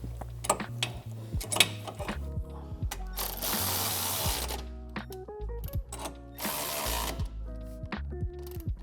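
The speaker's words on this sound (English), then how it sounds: "I'm gonna go ahead and tighten up the lower control arm bolts now." Lower control arm bolts on a Dodge Challenger are tightened with a ratchet during an air ride suspension install: bursts of rapid metallic clicking, clanks and tool rattles, fairly close, with no talking.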